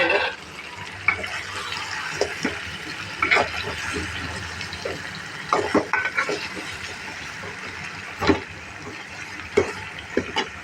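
Potatoes are stirred and fried in a country chicken curry, with a spoon scraping and clinking against the pot in irregular bursts over a low, wet simmer.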